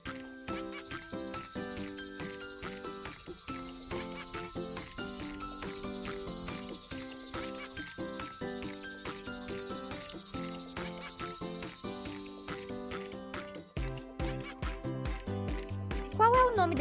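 A cicada in a garden buzzes in a loud, steady, high-pitched drone lasting about thirteen seconds before stopping abruptly, followed by a short burst of music.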